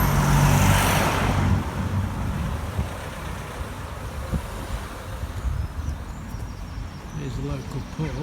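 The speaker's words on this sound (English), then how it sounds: "Oh dear, the traffic's coming again." Road traffic passing near a village pub in Dorset, a loud vehicle rushing close by at first, then a continuous roadway rumble that stays fairly steady.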